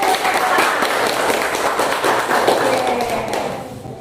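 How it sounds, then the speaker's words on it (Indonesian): A standing group claps hands together, a busy patter of many palms at close range that holds steady, then thins and fades out at the end. "Iya, tepuk tangan."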